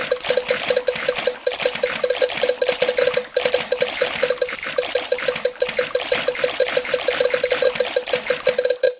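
Steady splashing and trickling water from a swimming pool in a Peppa Pig children's game, with a constant bright tone running throughout and repeated small splashes at a quick, even rhythm.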